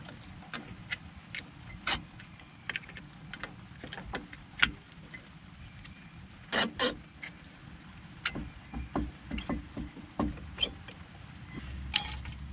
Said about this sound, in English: we're going to pop off this brake pad